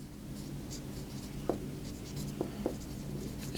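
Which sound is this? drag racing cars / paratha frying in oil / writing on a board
writing on a board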